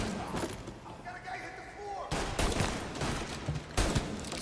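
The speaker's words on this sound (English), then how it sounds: "I'm more efficient with the fucking pistol." Pistol fire in the video game Mafia, a series of sharp broadband shots after the first couple of seconds, loud and close, mixed with game sound and a voice talking over it.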